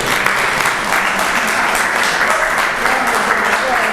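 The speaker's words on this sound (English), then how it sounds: "Give her a round of applause one more time, please." Loud, dense audience applause, steady and unbroken across the few seconds, with a voice faintly under it.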